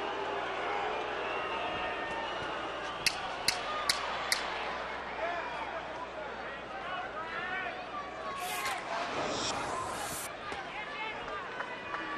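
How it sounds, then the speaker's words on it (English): A restless boxing arena crowd murmurs in a continuous low babble beneath a commentator's voice, with a few sharp clacks and a swell of noise near the end. "And the crowd gets restless."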